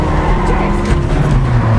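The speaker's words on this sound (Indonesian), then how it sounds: "Bond langsung menancap gas kendaraannya." James Bond's car accelerates hard in a film chase, its steady, loud engine roar filling the scene with rumbling low tones and no voices.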